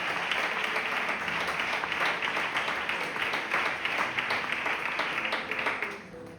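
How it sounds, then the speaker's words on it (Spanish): A church congregation claps loudly and continuously in praise during a sermon, a dense wash of applause that fades out near the end. "Dale un fuerte aplauso al Señor, por favor, dáselo fuerte, que es para Él."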